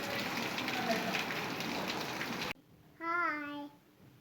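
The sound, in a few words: rain falling outside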